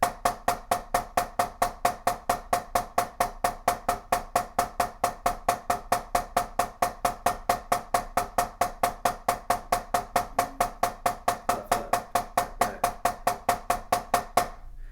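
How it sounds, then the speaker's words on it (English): Rapid, even drum strokes played continuously without pause, a steady stream of paradiddle sticking patterns with subtle accent shifts, close and loud with no voices. "So those are the 4 paradiddle stick control patterns that invert the paradiddle around."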